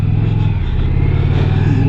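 An Indian motorcycle rides along the road, its engine giving a close, loud, steady low rumble with a slight rise in revs toward the end.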